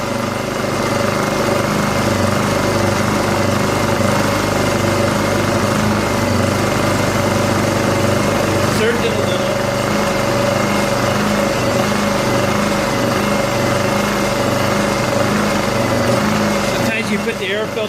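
A Honda EU2000i inverter generator's small engine runs continuously at a steady, droning idle, loud and close, with a brief change in tone near the end.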